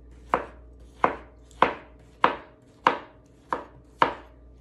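A favorite kitchen knife slices through vegetables for a pasta salad, seven crisp chops landing on a board at an even, unhurried pace, each a close, sharp knock with a short decay.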